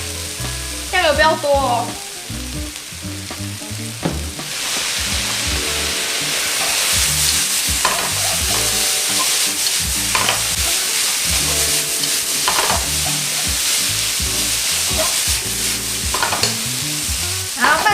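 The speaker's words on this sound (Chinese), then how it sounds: "加一点点的酱油、糖跟胡椒粉，把它炒均匀" Potatoes and pickled mustard greens stir-fried in a wok with soy sauce, sugar and pepper, giving a loud, steady sizzle with continual scraping of the spatula throughout, while a voice speaks briefly near the start.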